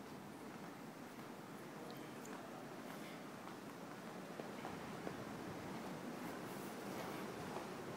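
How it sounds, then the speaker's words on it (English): Steady ocean surf washes continuously at a seaside hotel, a broad, even rush of waves heard from some distance with faint wind, without any talking. "There's the ocean."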